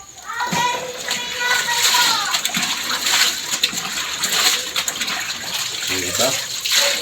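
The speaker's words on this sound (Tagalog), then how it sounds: "Ito yung ating tubig, no? Walang kakirap-hirap maglaba. Automatic." Water rushes steadily into a drum as an automatic washing machine fills, a continuous splashing wash with someone talking over it and a voice faintly in the background.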